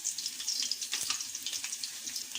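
Black pepper, clove and cinnamon sizzling in hot oil, a steady bright crackle and hiss with small pops, close and alone.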